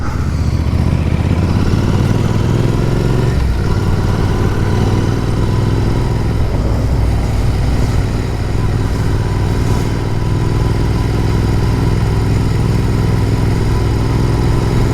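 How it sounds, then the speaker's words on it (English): A convoy of Royal Enfield motorcycles rides out, with the steady, loud rumble of their engines and wind noise continuing without a break and with no talking. "There's no finer sight than a line of motorbikes all in convoy."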